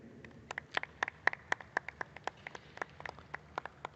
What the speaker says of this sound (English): please give you a nice round of applause to these two young ladies